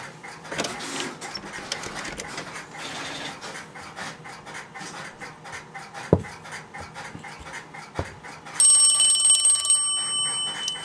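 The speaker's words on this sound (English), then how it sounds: "And the ringer is ringing." After a stretch of mechanical clicking and a couple of knocks, a C4-type telephone ringer bell rings loudly and steadily near the end.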